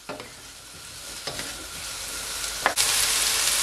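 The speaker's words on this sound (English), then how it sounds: "I'm gonna fry them until they became nice and brown and soft" Potatoes frying in a pan until brown and soft, giving a steady close sizzle that swells louder near the end, with a few brief stirring scrapes and no talking.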